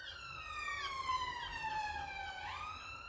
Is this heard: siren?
yes